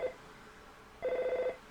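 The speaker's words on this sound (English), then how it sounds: "Maybe this phone call will solve all our problems." A telephone rings in the video game Earthbound: a short electronic trill, a pause, then a longer warbling burst of repeated beeps, clear and alone with no talk.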